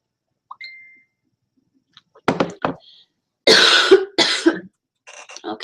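Several sharp coughs in quick bursts, close by, with short pauses between them and a final softer cough trailing off.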